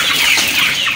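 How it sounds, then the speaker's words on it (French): Goliath chickens kept confined in a pen cluck and squawk loudly and close up, several birds overlapping in a busy, continuous chatter. "Donc on laisse le poulet confiné comme ça."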